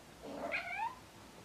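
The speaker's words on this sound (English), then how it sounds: "Cat is creeping in the background." A cat gives a single drawn-out meow with a rising then falling pitch, close and fairly clear, lasting under a second against a quiet indoor background with no talking.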